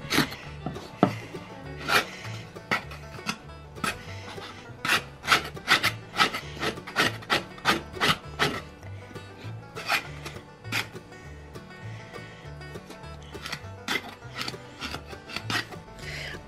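Smoked lamb trotters are scraped clean with a blade in a run of close, rough rasping strokes. The strokes come in irregular bursts with short pauses between them.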